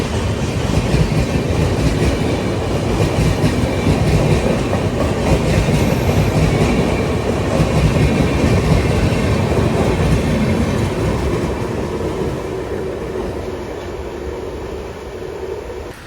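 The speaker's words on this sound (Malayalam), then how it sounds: "സെൻട്രൽ റെയിൽവേ ഓപ്പറേറ്റ് ചെയ്യുന്ന ഒരു ഡെയിലി വണ്ടിയാണ് കേട്ടോ ഈ കോയമ്പത്തൂർ മുംബൈ LTT" A Coimbatore–Mumbai LTT daily express run by Central Railway rolls past near Pune, a loud, steady roar of wagons with rhythmic wheel clatter that eases slightly toward the end, with no voices.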